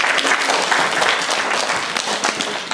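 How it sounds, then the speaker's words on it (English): Audience at a school public speaking final clapping for an adjudicator, dense sustained applause from a crowd nearby, steady for a few seconds then thinning slightly. "Can you guys give Deb a clap, please?"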